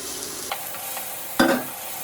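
Onion, ginger and a handful of cashews sauté in a pan with a continuous hiss, broken by two brief spoon scrapes, the second louder.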